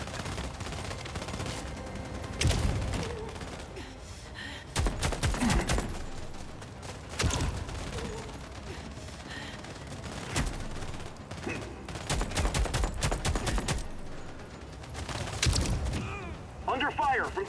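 Gunfire erupting in a firefight in the sci-fi shooter The Expanse: Osiris Reborn, with repeated sharp bursts and single loud shots scattered over a steady battle din, voices talking throughout.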